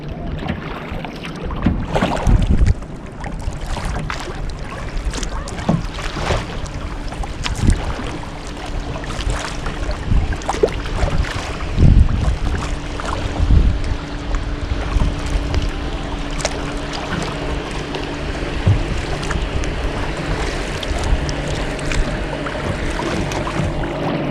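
Kayak slapping through choppy boat-wake water on Lake Wassookeag, with close, continuous splashing and sloshing against the hull, irregular thumps and wind buffeting the microphone throughout.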